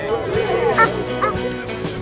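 A dog gives short, yippy barks and whimpering sounds at close range, mixed with a person's voice and laughter.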